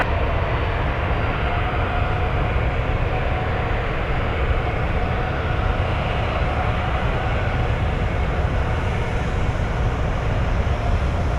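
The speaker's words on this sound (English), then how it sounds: "if you heard a train sound, that was actually a train." A train rumbles past near Anchorage airport, a loud, continuous, even roar that holds steady for the whole stretch without a break or any voices.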